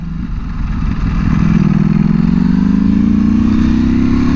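Loud, steady wind roar and rumble while riding a Ducati Panigale V4R sport motorcycle on an open freeway, building over the first second and then holding strong with the engine drone beneath.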